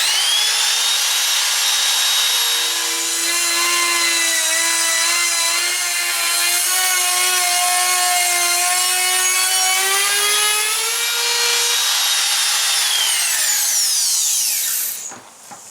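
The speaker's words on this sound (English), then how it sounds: "the router makes short work of what would otherwise be a long job" A router trims the plywood side wall of a teardrop trailer with a loud, sustained high whine that shifts in pitch as it cuts along the edge, then spins down near the end.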